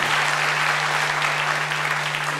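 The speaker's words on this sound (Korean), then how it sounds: "이분들께 우리 감사의 박수 한번 드리면 어떨까요?" Audience applause of thanks at an Anyang FC citizens' public hearing, a dense, steady wash of clapping from a crowd holding at an even level throughout, with a constant low hum underneath.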